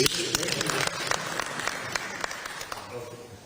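Applause at a traditional ceremony, a crowd clapping steadily with a few sharper individual claps standing out, fairly close, with voices mixed in underneath.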